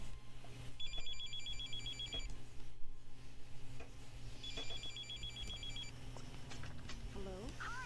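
In an audio drama, a telephone bell rings in two distinct bursts, each a rapid trilling ring about a second and a half long, separated by a pause, over a low background hum.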